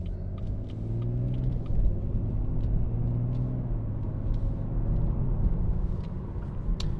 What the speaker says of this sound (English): You can feel there's a bit of tyre noise, as you'd expect